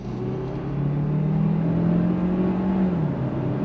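A 2023 Hyundai Tucson plug-in hybrid SUV accelerates hard on throttle, its engine note rising and droning steadily from inside the cabin for several seconds, with a continuous low hum and no talking.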